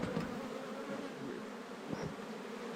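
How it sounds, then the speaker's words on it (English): Honeybees buzzing around an open hive during an inspection while the top brood box is set back on, a dense, steady, close drone with a few louder passes from single bees. "when you're dealing with a lot of bees"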